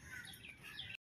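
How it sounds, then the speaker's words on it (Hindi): Small birds chirp faintly in the open air of a park, a few light tweets over quiet background noise. "और आपको चिड़ियों की आवाज़ सुनाई दे रही होगी।"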